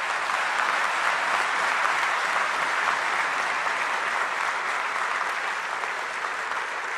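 A large audience at a speech by the Prime Minister claps loudly and continuously, a thick, even wash of many hands filling the whole stretch with no pause and no voice above it.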